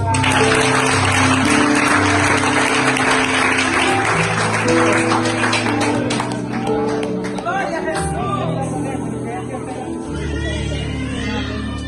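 Clapping and crowd noise fill a church service, with music playing underneath and voices calling out as the applause gradually fades.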